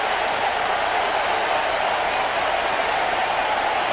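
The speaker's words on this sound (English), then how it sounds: "And this crowd on its feet." A stadium crowd roars after a quarterback sack at an NFL game between the Dallas Cowboys and New York Giants in 1997, a dense, steady wall of cheering sustained loudly throughout without break.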